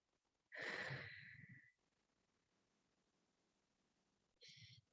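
Deep exhale during a Pilates stretch: one long, breathy sigh close to the microphone, then quiet, then a shorter breath starting just before the end.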